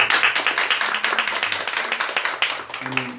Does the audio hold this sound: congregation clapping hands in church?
yes